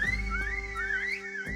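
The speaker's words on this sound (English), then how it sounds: "He whistles, signaling the guards to begin their massacre." A character whistles in the video game Reverse: 1999 to signal the guards: a long wavering whistle rising and falling over a steady low musical drone, with no speech.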